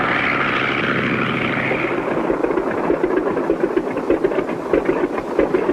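A propeller airplane circling in to land drones steadily with a rough, throbbing engine note that turns more pulsed and rhythmic partway through, loud and close with no voices.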